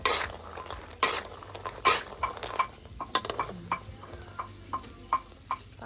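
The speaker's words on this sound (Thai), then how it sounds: "อันนี้เอาน้ำมันใส่หน่อยหนึ่ง คั่วจนมันหอมคนเลยเนาะ" Oil-fried ingredients stir-fried in a pan with two spatulas, with sharp metal scrapes and clanks of the utensils over a steady sizzle, striking in an uneven rhythm up close.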